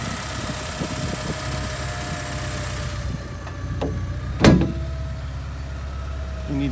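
A Porsche 944 engine, running again after sitting for 14 years, hums steadily on its first test drive, a low continuous drone from inside the car with a single sharp knock partway through.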